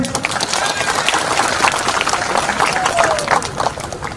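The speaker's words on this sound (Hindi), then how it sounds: "सब मन ताली मार दो जोर से" Large congregation applauding loudly at a priest's first Holy Mass, a dense continuous wash of clapping from many hands, with voices mixed in.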